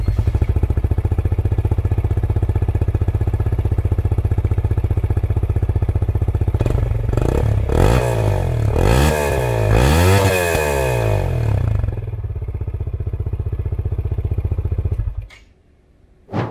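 An RFS 150 motorcycle fitted with a Rapido exhaust idles with a rapid, rattly beat, then is revved hard in a run of sharp rising blips before settling back, briefly cutting out near the end.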